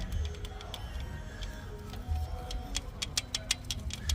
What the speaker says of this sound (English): That's the ticking noise right there.